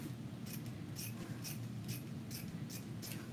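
Scissors snip ribbon while a bow is trimmed smaller, about seven short crisp cuts at a steady rhythm, close and fairly quiet over a low steady hum.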